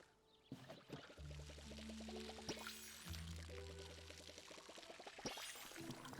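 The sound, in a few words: watering plants in a video game, pouring water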